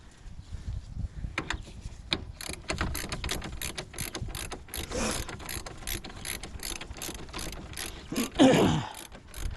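Ratchet wrench clicking as 13 mm bolts are loosened on a Ram 1500 radiator, rapid close pawl clicks in repeated bursts with a few metallic knocks, no talk.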